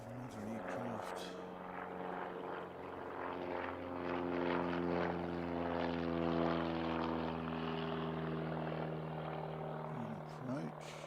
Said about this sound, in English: Another aircraft.